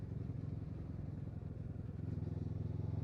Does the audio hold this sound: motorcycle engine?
yes